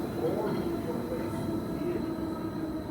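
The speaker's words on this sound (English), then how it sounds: "The third train goes entirely through a tunnel." A steady low rumble of a Jungfraujoch mountain railway train running through an enclosed tunnel in Switzerland, continuous and droning, with faint mechanical hum and no clear voices.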